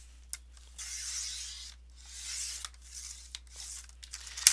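Folded manila paper being cut down to size for an artist journal, several soft rasping cutting and rustling strokes with brief crinkles between, close and quiet.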